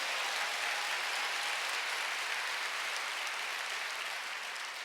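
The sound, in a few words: congregation applauding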